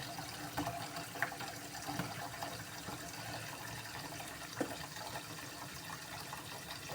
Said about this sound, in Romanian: Dai să las apă să curgă în ea.